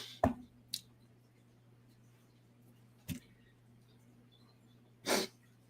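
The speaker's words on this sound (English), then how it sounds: "gotta sneeze" A person sneezes, with a sharp burst near the start and a longer, louder one toward the end. Small clicks fall between them, all close up over a low steady hum in a quiet room.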